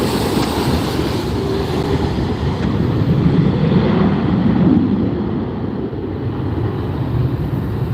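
A Delta airliner takes off from the far runway at LAX, its engine roar a steady, loud broadband rumble with wind buffeting the microphone throughout and no voices.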